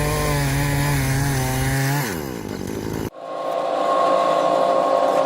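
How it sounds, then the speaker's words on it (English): A loud portable bandsaw mill grinds through a log with a steady droning whine, the pitch sagging under load before the blade breaks through and the motor runs on. "Here we go with the first couple of cuts with the sawmill."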